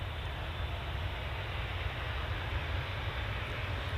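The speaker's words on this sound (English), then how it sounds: "it's a Boeing 737 800" A Boeing 737-800 jet bound for Lanzarote, its engines giving a steady, broad roar at moderate distance with no talk.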